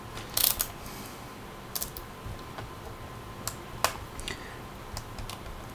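A small Phillips head screw being undone on an Asus P45VA laptop during a teardown: faint, sparse clicks and ticks of the screwdriver turning, quiet and close, with no speech.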